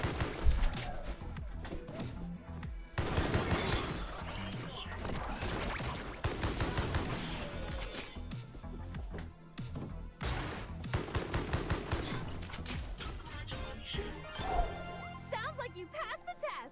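Gunfire in the fast-paced video game Mullet Mad Jack, with repeated shots and bursts over loud game music and impacts throughout, and a person talking over the action.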